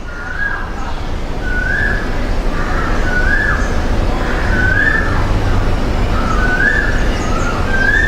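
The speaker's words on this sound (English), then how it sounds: "The cuckoo is singing." A cuckoo calls repeatedly in a steady two-note rhythm, moderately distant, over a constant broadband outdoor background hum, with no talking.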